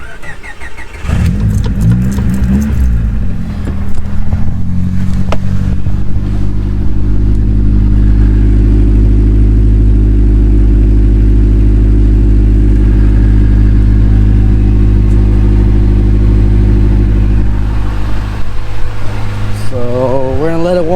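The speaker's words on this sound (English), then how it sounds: "I'm gonna do a quick cold start before we head out." A car's engine is cold-started near the microphone: a short crank, then it catches into a loud, steady, rumbling high idle that holds for many seconds before easing off near the end.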